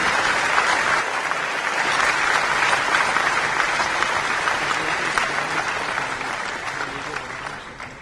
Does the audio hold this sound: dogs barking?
no